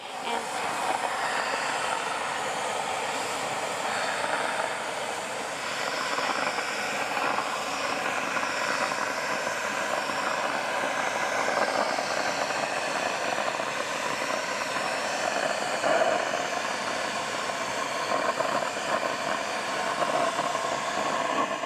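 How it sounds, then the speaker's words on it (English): A vacuum cleaner runs continuously at an even, loud level while air purifier filters are cleaned, a steady motor whine and airflow roar with no voices. "So let me go ahead and plug in my vacuum."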